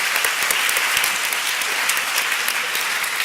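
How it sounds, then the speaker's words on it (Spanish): An audience at a talk on religious vocation claps steadily, a bright, even patter of many hands, continuous and alone for a few seconds. "Un aplauso."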